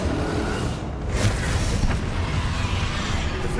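A Repulsor spell fires in Hogwarts Legacy with a sustained whooshing, crashing blast that swells after a brief dip, then rumbles on steadily and loudly for several seconds with no voices.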